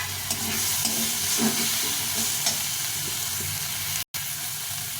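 Chopped red and green chillies fry in a pan alongside softened tomato, giving a steady close sizzle and hiss with faint stirring clicks and one brief dropout near the end.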